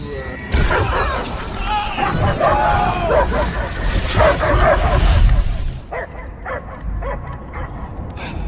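A dog barks and yips loudly amid game sound effects and crashing noises in Marvel's Guardians of the Galaxy, then quieter whimpering follows, with voices talking over parts of it.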